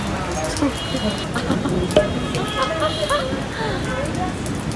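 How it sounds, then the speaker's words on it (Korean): Heavy rain falls at a train station in Jaipur, India, a dense, steady hiss of drops on surfaces throughout, with people talking over it. "비가 너무 많이 와요."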